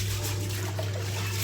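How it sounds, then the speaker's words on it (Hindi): Rice being washed by hand in water, a continuous watery swishing and trickling close by over a steady low hum, with no speech during it. "चावल ये धो रहा हूँ मैं अभी"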